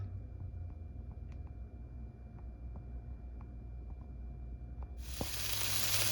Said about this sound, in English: let's get it in the skillet